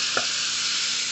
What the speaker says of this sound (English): now the shrimps are frying.